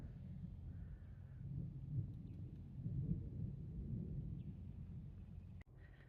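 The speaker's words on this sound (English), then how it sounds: "There's the thunder" Faint, distant thunder rumbles low and steady at a rainy campsite near a minivan camper, a soft rolling murmur with no voices.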